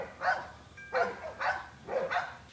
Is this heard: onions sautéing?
no